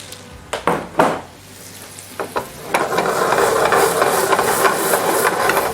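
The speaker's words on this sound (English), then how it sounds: "We're kind of frying, or shallow frying it would be called," Shrimp shallow-frying in oil in a pan: a few sharp clatters as pieces go in, then a steady loud sizzle and hiss that builds and holds.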